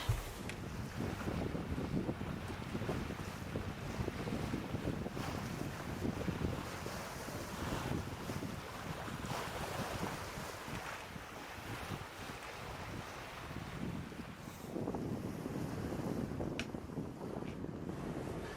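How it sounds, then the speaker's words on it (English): Najad 440 yacht sailing in light wind, around 12 knots, a steady rush of wind over the microphone with water swishing along the hull and soft surf, continuous and moderately quiet. "It's quite nice sailing now."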